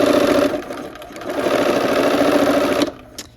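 A sewing machine sews down the side of a quilt, a close steady mechanical whir with a slight dip in the middle that stops abruptly near the end.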